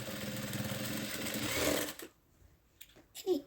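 A sewing machine stitches a zip onto a fabric pouch, giving a steady, close whirring run for about two seconds before it stops and leaves quiet handling noises.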